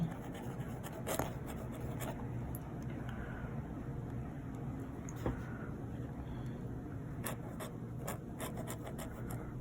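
A scratchy fountain pen nib scraping across paper while writing out Ferris Wheel and Diamine ink samples, close and dry, with short strokes and intermittent sharper scratches over steady low room noise.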